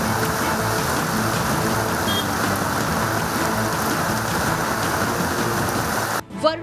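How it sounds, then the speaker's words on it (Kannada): Heavy rain lashes down in coastal Karnataka, a loud, unbroken wash of falling water that holds steady throughout, briefly interrupted by a short different sound at the very end. "ರಾತ್ರಿ ಬಿಡುವು ನೀಡಿದ್ದ ಮಳೆ ಬೆಳಗ್ಗೆ ಮತ್ತೆ ತನ್ನ ಆರ್ಭಟವನ್ನ ಮುಂದುವರಿಸಿದೆ."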